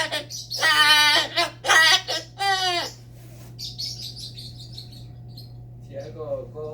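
A pet parrot chirps and sings in a home, loud bursts of whistled notes at first, then softer trilling calls, with a person's voice briefly near the end.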